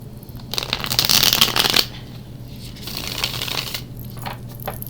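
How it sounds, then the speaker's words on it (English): Tarot cards being shuffled, a dense riffling burst up close lasting over a second, followed by softer handling and light tapping sounds, with no voice. "One shuffle left here."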